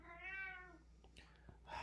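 A cat gives a single clear, drawn-out meow that rises and falls, close but quiet, followed by faint small noises and no talking.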